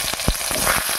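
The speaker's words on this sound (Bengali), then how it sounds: "তেল গরম হয়ে গেছে, দিয়ে দিচ্ছি পটল" Pointed gourd drops into hot oil in a wok on a home cooking stove, giving a close, loud sizzle with a few sharp crackles over about a second.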